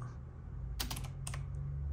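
A computer keyboard is tapped in two short, crisp bursts of keystrokes, close and fairly quiet over a steady low hum.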